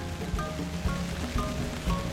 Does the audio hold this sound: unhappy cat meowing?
no